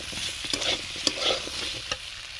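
Teasel gourd (kakrol) with prawns frying in a pan: a steady, close sizzle runs throughout, broken by several sharp scrapes of stirring, with no voices.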